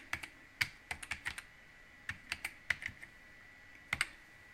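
Typing on a computer keyboard: quiet, close clicks come in short irregular bursts of several keystrokes, with pauses in between, while someone enters text in a document.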